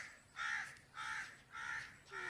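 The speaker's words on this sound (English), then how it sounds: "See, the crows are hungry also." Hungry crows caw in four drawn-out, harsh calls evenly spaced over about two seconds, somewhat distant and fairly faint against a quiet background.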